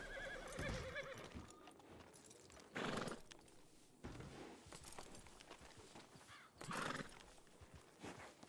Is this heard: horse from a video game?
yes